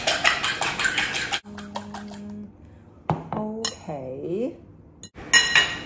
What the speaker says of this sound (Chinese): 打三粒蛋